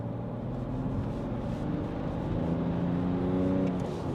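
BMW E90 330d with the pre-LCI M57 3.0-litre diesel pulling hard in third gear, a steady low drone that climbs gradually in pitch and loudness. Heard from inside the car, with no one speaking.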